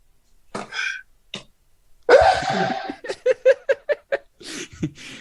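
A single sharp sneeze bursts out after a couple of soft breaths, followed by a run of short, choppy giggling bursts nearby.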